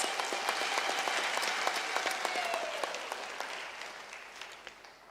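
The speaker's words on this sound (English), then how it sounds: "Can we give a round of applause to our families here and our" Audience applause at a University of South Africa autumn graduation ceremony: steady, full clapping from a large crowd that holds strong for a few seconds, then slowly fades and trails off with scattered claps.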